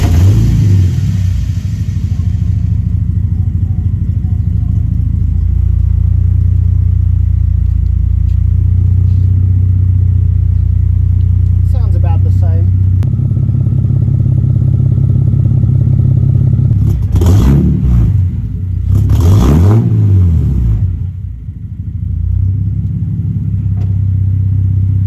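Ford Falcon with its muffler removed and a 76mm exhaust pipe fitted, engine idling with a loud, steady low rumble, then two sharp revs around the middle and end that rise and fall, all close up with no talk.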